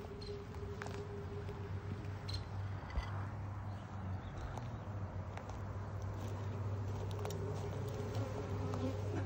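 Bees buzz steadily throughout a beehive inspection, a faint, continuous hum with scattered light clicks and knocks from handling the hive.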